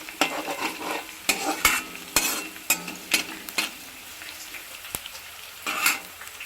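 Tempering spices, chopped onion and green chillies fry in hot oil for a potato fry, a soft sizzle underneath sharp, irregular scrapes and clinks of a spatula stirring against the pan, with no one talking.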